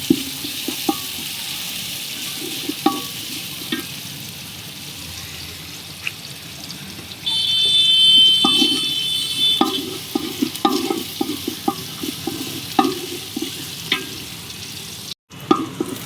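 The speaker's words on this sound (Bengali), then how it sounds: "পেঁয়াজ আর গোটা জিরে দিয়ে মশলাটাকে ভালো করে লাল করব।" Sliced onions and whole cumin frying in hot oil for khichuri, a steady close sizzle with intermittent stirring scrapes and clatters, louder in the middle stretch, with no voices.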